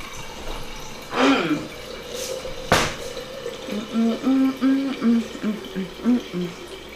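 Water is poured into a glass mason jar for coffee: a couple of sharp clinks, then a run of rhythmic gurgling glugs that rise in pitch as the jar fills, close and clear.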